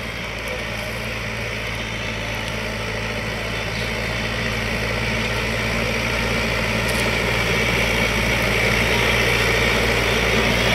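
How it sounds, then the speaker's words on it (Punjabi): Eco Master 554 55 hp four-wheel-drive tractor pulling an 18-disc harrow under high load in first gear, a steady loud diesel drone with deep low rumble and continuous mechanical vibration throughout, no voices. "18 ਤਵੀਆਂ ਫੋਰ ਵੀਲ ਡਰਾਈਵ 'ਚ ਅਤੇ ਕਿੱਲੀ ਇੱਕ ਵਧਾ ਦਿੱਤੀ ਟਰੈਕਟਰ ਦੀ"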